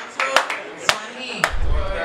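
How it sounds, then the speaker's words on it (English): A rap-battle crowd claps, giving a few sharp, separate claps spaced about half a second apart, close and fairly loud, with a low rumble rising at the end. "make some noise. Clap it up."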